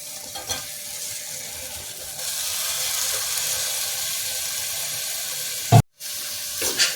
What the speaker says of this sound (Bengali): এবার আমি চিকেনটা এর মধ্যে ঢেলে দিচ্ছি